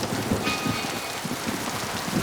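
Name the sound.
rain falling in the video game Mass Effect 2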